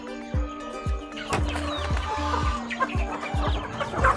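Chickens cluck repeatedly up close, a steady run of short clucks with other fowl calling faintly behind.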